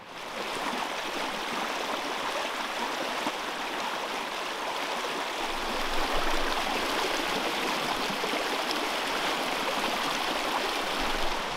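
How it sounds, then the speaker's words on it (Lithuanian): A forest stream near the Neris river rushes steadily nearby, a constant broadband wash of flowing water that grows slightly fuller halfway through. "turim situaciją, kad yra upeliukas ir man jį reikia pereiti"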